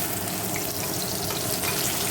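Fish fries in hot oil in a pan with a loud, continuous close sizzle and crackle, steady throughout, and no talking.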